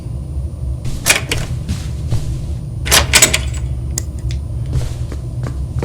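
Rattling, clunking attempts at a locked door in the horror video game Janitor Bleeds, a few sharp handle jolts and knocks over a steady low hum, with no talking.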